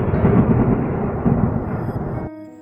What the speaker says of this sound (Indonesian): dikejutkan oleh suara petir yang sangat kuat menggelegar